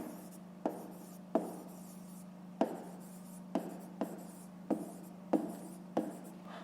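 Pen writing numbers on paper while working a fifth-grade math exercise: a steady close scratching with about nine sharp tap-like strokes in an even rhythm over a constant low hum.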